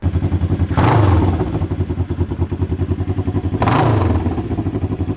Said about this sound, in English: when you rev it up, how long it takes for it to come back down to idle